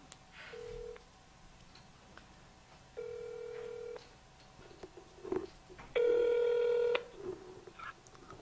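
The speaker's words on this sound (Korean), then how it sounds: "한번 우리 태그에게 전화번호 걸어보도록 하겠습니다" Phone tones sound during a call: three steady one-second beeps spaced apart, the last loudest, with faint clicks and soft background noise between them.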